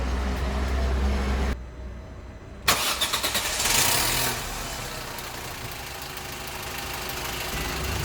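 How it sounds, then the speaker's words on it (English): A car engine cranks and fires up while powered from a portable jump starter power bank with built-in compressor, catching after a short crank and settling into a steady, fairly close idle with no voices. "We are okay, and now we can start the car."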